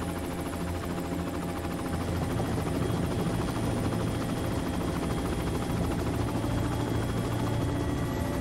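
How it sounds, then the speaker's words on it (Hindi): A helicopter descends to land in an action film scene, its rotor chop loud, close and continuous throughout with a steady pulsing beat. "हेलीकॉप्टर नीचे लो।"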